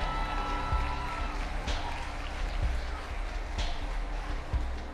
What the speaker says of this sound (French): Félicitations à la deuxième dauphine que vous pouvez applaudir bien fort.